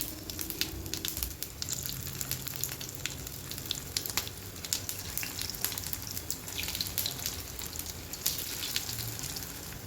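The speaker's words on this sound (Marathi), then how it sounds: "आता इथे तेल तापलं की थोडीशी मोहरी टाकून घ्यायची आणि थोडेसे तीळ टाकून घेणार आहे." Phanji vadi frying in hot oil with mustard seeds and sesame: a continuous close crackling sizzle with dense bright pops, steady in level for the whole stretch, with no talking.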